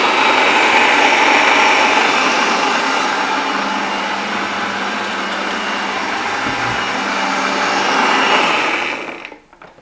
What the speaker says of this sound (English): Pop our lid on. And then all you want to do is process it until it becomes really smooth.